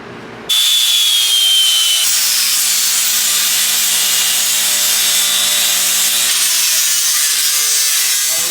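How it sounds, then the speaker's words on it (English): Welds are cut off the bumper brackets of a 1986 Chevy K-10 truck with a loud, close power tool that grinds steadily for several seconds without pause, and no one speaks. "Cut those welds off that somebody welded to it."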